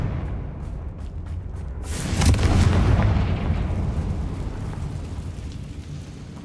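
Confringo fire spell explosions in the video game Hogwarts Legacy, fought against goblin loyalists, produce a loud booming blast after a couple of seconds that rolls into a long rumbling decay.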